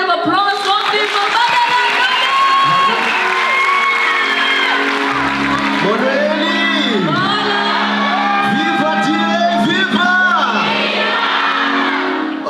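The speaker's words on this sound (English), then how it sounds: "let's all give him a warm round of applause" A crowd at a Youth Day 2023 rally in South Africa whoops, shouts and cheers loudly with scattered clapping, a continuous dense roar of voices lasting the whole clip.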